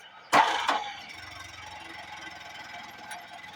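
A mechanical log splitter starts with two sharp clanks, then settles into a low, steady mechanical hum that runs at moderate loudness close by.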